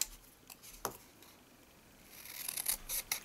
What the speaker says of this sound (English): using my scissors